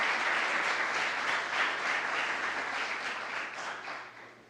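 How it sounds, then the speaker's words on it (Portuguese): Church congregation applauding during a worship service, a dense wash of steady clapping that fades slightly toward the end. "Aplauda o Senhor na vida deles, gente."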